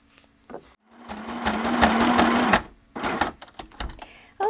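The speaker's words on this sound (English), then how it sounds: "now I'm going to secure the entire thing by stitching around the entire perimeter of this quilt." A sewing machine stitches around the edge of a small quilted card, running in a steady loud burst for over a second, then stopping and restarting in shorter uneven spurts with brief pauses, close and clear with no talking.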